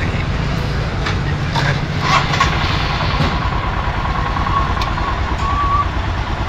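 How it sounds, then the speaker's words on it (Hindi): A Royal Enfield Himalayan motorcycle is self-started after a battery change and settles into a loud, close, rumbling idle. A person talks over the engine, with a few brief clicks and a thin tone. "इसको एक बार सेल्फ स्टार्ट कर लेते हैं।"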